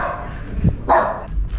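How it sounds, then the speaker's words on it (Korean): A dog gives a couple of short, close barks, one soft and one louder, with faint background sounds in between. "댕댕이 인터뷰는 한번 해볼까?"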